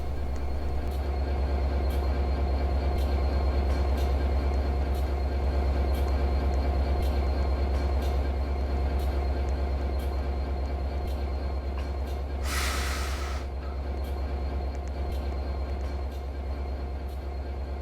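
A passenger train in the Roblox game runs steadily with a constant low rumble and rhythmic clicking, briefly joined by a hiss near the end, loud and continuous with no talk.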